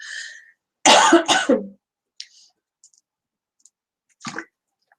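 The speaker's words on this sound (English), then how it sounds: "doing all this talking is actually making me want to cough a lot" Two or three sharp coughs close to the mic, followed by a few small clicks and a short throat-clearing cough after a quiet pause.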